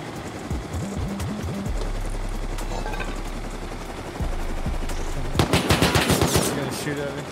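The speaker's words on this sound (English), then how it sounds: "They're shooting at me." Gunfire in the video game Rust during a raid on a high quality metal quarry, rapid automatic bursts under faint voices and background game noise, growing louder and denser toward the end.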